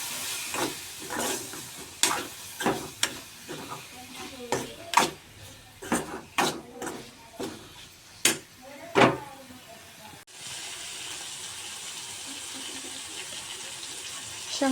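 Cluster beans stirred in a frying pan, with repeated scraping strokes and clatter over a steady sizzle; the stirring stops partway and a continuous frying hiss carries on alone.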